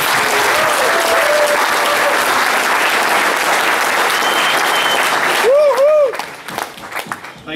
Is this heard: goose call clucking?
no